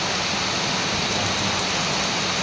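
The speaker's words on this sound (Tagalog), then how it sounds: "malakas ang ulan." Heavy rain pours down in a steady, dense hiss, loud and unbroken throughout.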